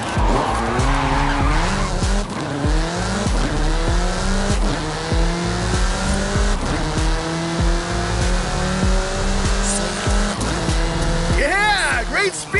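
Tires skid and squeal as a car slides at speed through a corner in the Forza Horizon 5 racing game, with a loud revving engine throughout and a voice talking over the action.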